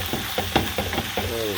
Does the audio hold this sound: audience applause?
no